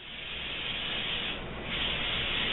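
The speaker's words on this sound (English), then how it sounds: "We're going to spray down our pan here." Cooking spray hissing steadily onto a baking pan, a continuous close spray lasting a couple of seconds with slight swells in intensity and no talk.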